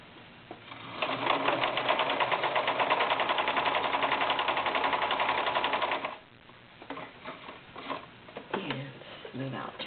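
A mid-1980s Brother VX 857 low-shank sewing machine running a zigzag stitch, with rapid rhythmic needle clatter sustained for about five seconds before stopping, followed by softer handling clicks and knocks.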